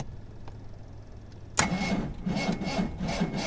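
A 1959 Jaguar XK150 fixed-head coupe with a slightly low battery starts abruptly after a quiet lead-in. The engine then settles into a steady, loud, high idle with a rough, pulsing texture.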